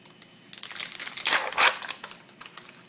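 Plastic packaging for a new insulin pump hose crinkles and tears open in a brief close burst of rustling that peaks midway and then fades.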